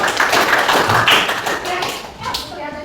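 A classroom of students claps for a classmate, a dense patter of hand claps filling the room while voices mix in underneath.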